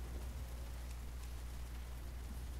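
Rain in the trucking game American Truck Simulator, a faint steady hiss of falling rain with a low rumble underneath, continuous and unbroken, with no voices.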